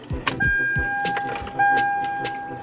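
Toyota Tacoma truck with a 5-speed swap as the ignition key is turned to the on position: clicks and key jangles, a relay-like tick, and a steady electronic chime or tone running in two stretches, close up with no talk.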